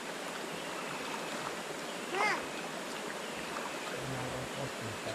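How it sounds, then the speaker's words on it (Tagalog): Water flows steadily into an irrigation channel for a vegetable garden, a faint continuous rush with a brief bird-like chirp partway through and a low murmur of voices near the end. "Ah, tubig, yan na."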